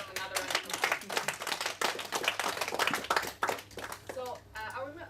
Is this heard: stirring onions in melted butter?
no